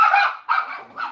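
A dog gives three sharp barks in quick succession, close and fairly loud, with brief pauses between them and no voices.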